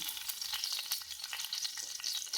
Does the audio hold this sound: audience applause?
no